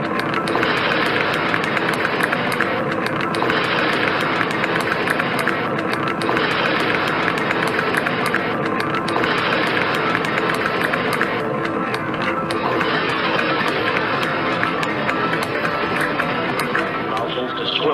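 Space Shuttle Discovery's main engines during launch, just after booster separation, give a continuous, loud broadband roar that holds steady throughout, with a voice talking over it.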